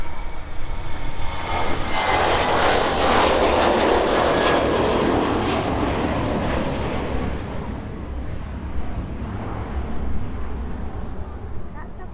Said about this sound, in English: But look at this one then, the Ryanair coming towards us. Oh, this is taking off quite thingy